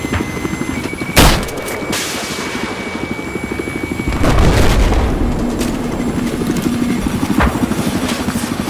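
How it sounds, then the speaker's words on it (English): Rocket explosion in Battlefield 4 combat: a sharp blast early on and a heavier rumbling boom midway, over constant rotor-like drone and scattered gunfire, loud throughout. "See where that rocket came from?"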